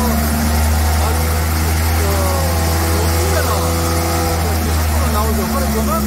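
A Volvo excavator with a mowing attachment drives with its engine running, a loud, steady diesel drone with pump whine, while someone talks over it throughout.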